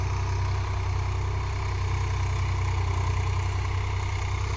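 Swaraj 855 FE tractor engine running at low RPM while pulling a 5-tyne cultivator, a steady close low-pitched rumble with a faint clatter, continuous and without gaps.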